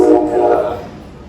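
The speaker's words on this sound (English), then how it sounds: "Trains going by." A train passes outdoors near San Diego, a loud horn blast ringing out up front and then fading as the rumble of the passing train carries on.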